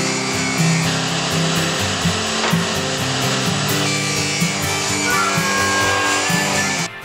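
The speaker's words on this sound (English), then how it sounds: "Back on the table saw." A table saw cuts maple boards to length for award plaques, a steady loud whine with blade rumble running continuously for several seconds, with slight load changes as the wood feeds through.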